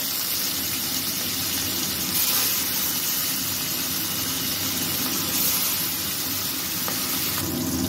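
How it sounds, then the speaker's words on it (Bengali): Fish frying one by one in hot oil for a Bengali mustard fish dish, giving a steady, loud, continuous sizzle and hiss with no talk. "তেলটা গরম হয়ে গেছে, এক এক করে মাছ ছেড়ে দেব।"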